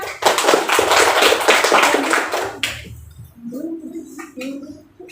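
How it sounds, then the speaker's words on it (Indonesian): Grade 7B classroom clapping hands together, a lively burst of many claps for roughly two and a half seconds, then a teacher's voice speaks over the quiet room. "Tepuk tangan untuk kita semua"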